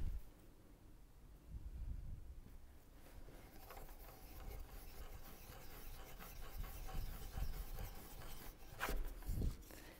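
A hand tool bores a hole by hand into a small wooden wheel for a children's craft toy, making a faint, continuous grinding rasp with slight rhythmic scraping throughout.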